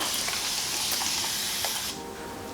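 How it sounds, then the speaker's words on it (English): A steady, breathy hiss of warm water sprayed from a spray bottle onto hair close by for about two seconds, then it cuts off, leaving quieter room noise. "I'm gonna spray my hair with warm water."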